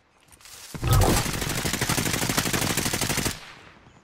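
Sustained automatic gunfire in Call of Duty Warzone, a rapid burst of shots that starts sharply, holds for about two and a half seconds and then cuts off, fairly loud with no speech.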